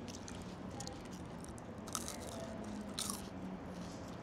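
Crunchy fries being bitten and chewed up close, with a few crisp crunches standing out over soft, steady mouth sounds.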